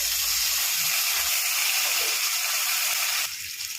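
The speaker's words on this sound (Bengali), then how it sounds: "আলুটা আগে ভেজে নিচ্ছি।" Potatoes frying in hot oil in a wok (kadai), a continuous bright sizzle and crackle, fairly close and steady, with no talk.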